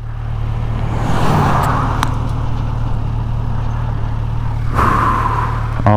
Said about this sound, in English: Wait for this big old truck to pass.